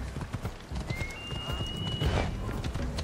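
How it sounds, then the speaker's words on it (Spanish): Horse hooves clip-clop at a steady walking pace in Assassin's Creed Odyssey, a close rhythmic clatter of repeated hoofbeats with a thin high tone running briefly over them and no talk. "No sé por qué el caballo no corre."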